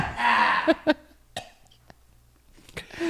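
A person coughs several times in short, harsh bursts, close up, with a brief throat-clearing sound and quiet pauses between.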